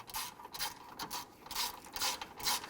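A ratchet snugs down a bolt on the radiator fan bracket of a 2006-2012 Toyota RAV4 3.5L. Its clicking comes in quick faint repeated strokes, close by.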